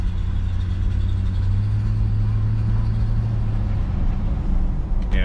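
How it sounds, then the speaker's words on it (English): A car with a 4L60E automatic transmission fault, giving a loud steady engine drone with a rough underlying rattle, heard up close with no talking. "that's a weird rattle noise I hear, that's for sure"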